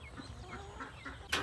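Farm chickens drinking water give a few soft, faint clucks one after another, ending in a brief sharper flutter or scuffle.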